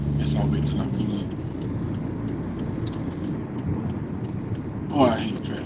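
Road traffic with cars passing at moderate distance, a continuous muffled rumble with a brief louder swell near the end, while a person talks over it.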